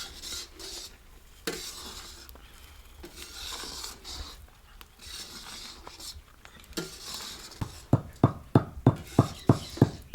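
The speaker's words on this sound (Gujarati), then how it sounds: "હવે આપણે એલચી ખાંડી નાખી" Cardamom pounded by hand while preparing adadiya pak, a Gujarati winter sweet: soft scraping and shuffling give way to about eight sharp, evenly spaced strikes near the end, close and fairly loud, with no voices.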